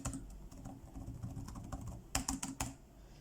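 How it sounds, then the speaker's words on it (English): Typing on the keyboard of a Lenovo Legion 5 gaming laptop, quiet tactile clicks in a steady close-up patter with a few louder keystrokes near the end, no voices. "The keyboard, let's give it a touch."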